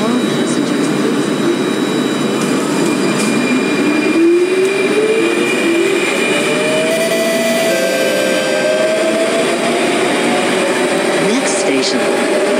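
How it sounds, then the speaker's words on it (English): Train pulling away from a station in Roblox, with a steady rumble of wheels and a motor whine that rises in pitch as it gathers speed. A voice speaks over the departure. "Doors are closing. This train service ends at this station."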